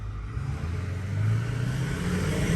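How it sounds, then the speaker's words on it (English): Turbos spooling up on a 2008 Ford F450 King Ranch dually with a 6.4L diesel, a loud, steady engine rumble with a rising whistle, heard from inside the cab. "Ooh, those turbos sound good."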